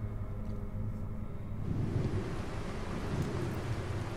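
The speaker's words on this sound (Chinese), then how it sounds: "狂风暴雨的夜晚啊" Stormy night in a horror video game: heavy rain hisses steadily while a deep thunder rumble rolls in partway through, low and sustained beneath the downpour, with no voices.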